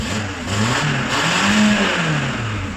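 A rusty VW Golf Mk3 engine runs with an exhaust blow at the front, a close, rough mid-pitched drone that swells and dips as it is revved lightly, with no talking.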